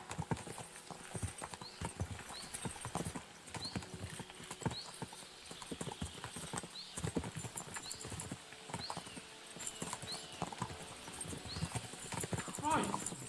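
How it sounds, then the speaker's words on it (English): Horses gallop in the video game Kingdom Come: Deliverance II, a steady run of hoofbeats filling the whole stretch, with occasional whinnies and voices talking over the riding. "We should spur the horses on."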